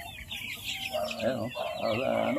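Free-range native chickens cluck and murmur nearby in a short, continuous farmyard stretch, with overlapping calls.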